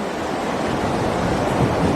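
Surf breaking along a beach, a steady loud broadband wash with slight swells and some wind noise across the microphone, no voices.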